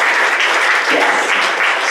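An audience at a conference meeting in Fort Worth, Texas, claps in a brief, steady round of applause, with no voices over it.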